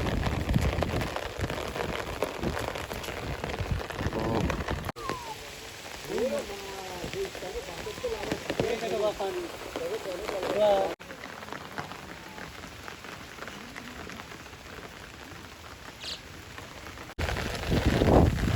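Heavy rain pours steadily onto open farm fields and a field road during a days-long downpour, making a constant loud hiss with bursts of patter. Indistinct voices and other noises come through faintly in the middle stretch.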